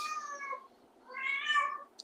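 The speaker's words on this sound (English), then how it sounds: "So sorry if there's some mating calls at the back." A female cat named Strawberry, in heat, gives two drawn-out, wavering mating meows close by, the second louder and longer after a short pause.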